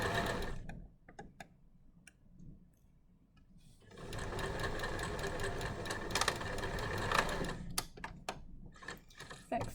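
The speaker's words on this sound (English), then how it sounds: "So I'm going to sew this seam down, taking the pins out as I go." A sewing machine stitches down a bias binding seam, with a few short stop-start bursts at first, then a quiet pause and a longer, steady rapid mechanical whirring that stays close and clear, without any talk.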